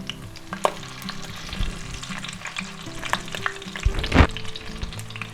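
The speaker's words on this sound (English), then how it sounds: "Now our corned beef hash patties should cook maybe for 2 minutes per side, and we'll flip them over" Corned beef hash patties fry in a pan with a steady close sizzle, broken by occasional scraping and a louder clatter as a spatula works under them; no one speaks.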